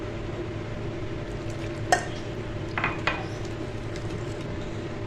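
Milk being mixed into eggless Dora cake batter: a low, steady mixing hum with one sharp clink of a utensil against the bowl and a few softer taps, close and quiet, with no voices.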